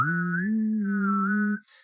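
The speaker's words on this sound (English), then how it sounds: "Maybe if I whistle it a bit while I'm doing it." A person whistles a tune close by, holding a few steady sustained notes with small pitch glides before stopping abruptly.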